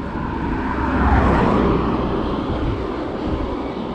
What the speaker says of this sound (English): there's a car coming